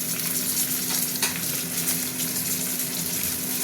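Fish sizzles steadily as it fries in a pan, a dense continuous crackle held close and fairly loud, with a faint steady hum underneath and no talking.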